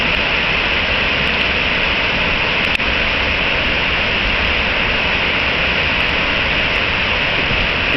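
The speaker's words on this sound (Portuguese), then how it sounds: "e a cachoeira." Waterfall in a forested park beside a river, a steady loud broadband rush of falling water filling the scene without pause, with no voices.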